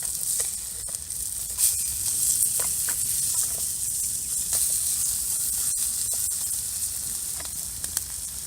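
Small twig fire crackling inside a brick rocket stove, with steady sizzling hiss and scattered sharp pops and snaps throughout, close and fairly constant.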